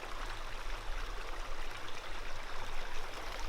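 A creek flows beside a sycamore grove on a desert backpacking trail in Anza-Borrego, giving a steady, even rushing and trickling of water throughout, with no voices.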